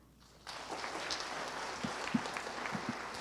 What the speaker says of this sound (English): Can we have another round of applause for the grade 4s?